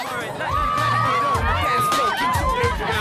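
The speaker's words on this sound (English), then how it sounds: "And now, yes, it's a crowd" A crowd of curious onlookers gathers on a Tokyo street, producing a busy babble of excited voices, shouts and whoops close by, with one voice rising in a long sustained call above the hubbub.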